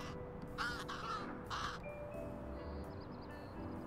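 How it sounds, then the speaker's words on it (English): A crow caws in the video game Little Kitty Big City, several short raspy calls over a quiet ambient background, with soft chimes and game tones afterward. "Yeah, I found this crow."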